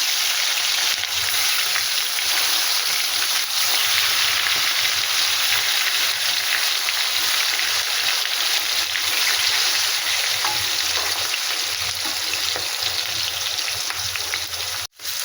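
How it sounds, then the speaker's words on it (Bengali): Small chela fish sizzle steadily in hot oil in a kadai, a dense, even crackle that holds loud and close with no talking, ending in a brief dip near the end. "মাছগুলো কড়াই দিয়ে দিলাম"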